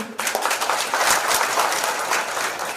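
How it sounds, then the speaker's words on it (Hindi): A crowd at a cancer screening camp and tobacco-free auto rickshaw launch breaks into applause, starting suddenly and holding as dense, steady clapping for nearly three seconds. "ताली खड़ा करवा के ताली बजाओ"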